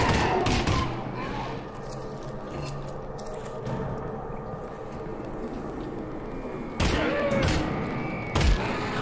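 Gunshots crack intermittently in the VR shooter Half-Life: Alyx, a few sharp close bangs over a busy background of game noise and rumble.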